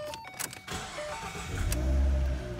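A 2014 Ford Mustang with a six-speed gearbox starting up, a few faint interior clicks and then the engine turning over into a low rumble near the end, fairly quiet overall.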